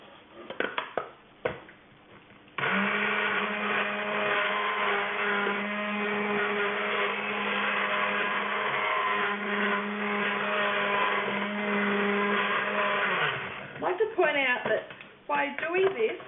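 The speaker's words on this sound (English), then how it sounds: "by using the stick blender, we are accelerating the saponification" An electric stick blender mixing liquid soap whirs steadily for about ten seconds, a continuous motor hum bracketed by brief clattering handling noises before and after.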